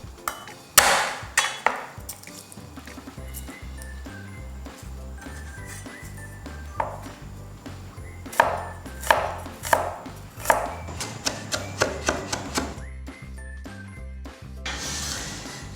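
A knife chops ginger slices and garlic cloves on a board in rapid, uneven bursts of close, crisp knocks, some strikes louder than others, with brief gaps, over a faint background hum.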